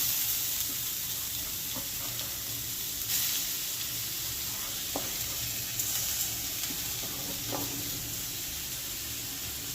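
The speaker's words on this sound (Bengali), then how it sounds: "আমি চিনিটা নারকেলের সাথে মিশিয়ে নিচ্ছি। মিশিয়ে নেওয়ার পরে আমি কড়াইয়ে দেবো, কড়াইয়ে দিয়ে দিচ্ছি।" A coconut and sugar mixture cooking in a wok (kadai) gives off a soft, steady sizzle and hiss close by, with a few faint clicks from stirring and no talk.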